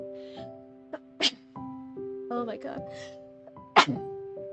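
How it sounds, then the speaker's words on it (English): Two sharp sneezes burst out amid casual talk, with music or a tone humming steadily underneath. "Hold on, I'm gonna sneeze."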